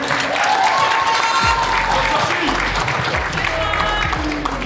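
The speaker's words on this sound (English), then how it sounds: "So let's go put your hands together for the best man." Wedding-reception crowd in Melbourne, Australia, clapping for the best man, a dense, steady round of applause at close range with a few cheers and voices mixed in, holding loud throughout.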